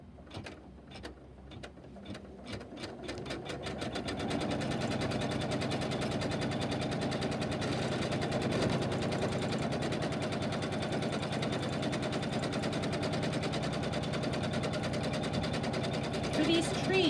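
A sewing machine stitches green fabric for a quilt tree block, its rapid mechanical whirring starting in short bursts then running steadily and loud for most of the stretch.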